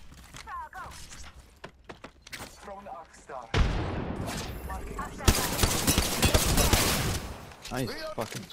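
Rapid bursts of automatic gunfire and single shots in an Apex Legends ranked arenas match, loud and dense in the second half, with voices talking over the early part.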